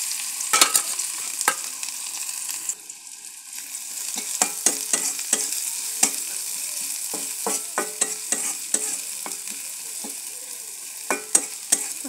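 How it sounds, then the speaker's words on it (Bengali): Onion and garlic hiss and sizzle in hot oil in a karai for pumpkin fry with dried fish, with a steady crackling bed, a brief lull near three seconds, and frequent sharp spatter pops and utensil clicks throughout, with no talking. "চুলায় আমি কড়াই আমি পরিমাণ মতো তেল দিয়ে দিয়েছি। এখন পেঁয়াজ রসুন দিয়ে দিব। পেঁয়াজ রসুন দিয়ে দিচ্ছি।"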